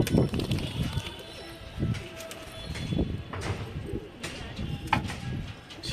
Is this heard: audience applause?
no